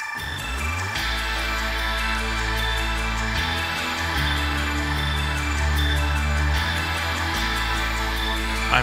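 Chiptune-style soundtrack music from The Last Ninja II on vinyl, played on a turntable, steady and full with a thumping bass line and bright synth tones, continuous with no talking.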